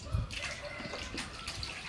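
Water is poured and mixed into a homemade liquid plant fertilizer made from ripe coconut. The splashing and gushing is soft and steady, fairly distant and muffled, and lasts the whole stretch.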